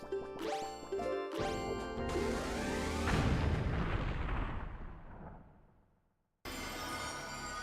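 Cannon fire in The Legend of Zelda: The Wind Waker: two sharp launches with a bright whistle, then a big booming blast that rolls and decays into a long fading rumble, brief silence, then game sound returns.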